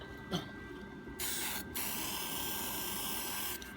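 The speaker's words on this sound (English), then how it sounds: "Make sure you give it a good shake to get that ball bearings in there, rolling around, stirring up the paint" A spray paint can is shaken hard, its ball bearing rattling in a steady, close run of metallic clatter that continues for several seconds with no talk, during a rusty steel house post repair.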